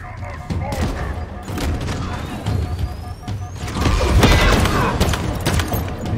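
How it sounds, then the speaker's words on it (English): Stalker rifle fire in the video game Halo Infinite, a burst of gunfire mixed with mechanical clanks and thuds over a steady game din, growing louder toward the end, with voices talking over it. "Oh, the stalker rifle does a lot of damage."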